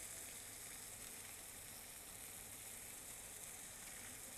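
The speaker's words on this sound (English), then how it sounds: "So, fish is frying." Steady, loud sizzling of fish searing in a hot pan, a continuous hiss without pause and no voices.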